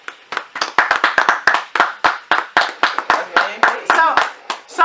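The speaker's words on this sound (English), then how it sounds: "So we get an applause for that." An audience claps for a couple in quick bursts of close handclaps and cheers, with voices calling out among the claps.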